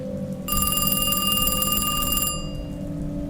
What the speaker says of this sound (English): A few minutes later, the phone rang.